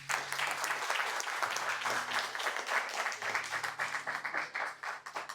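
A church congregation breaks into sustained applause, a dense wash of many hands clapping that thins toward the end, with faint voices underneath.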